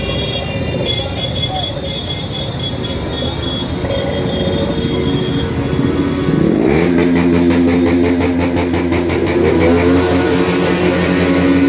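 Motorcycles rev during a large bike rally for the Ugadi festival in Yallapura, engines droning, then a loud rising rev swells up close partway through over continuous traffic noise.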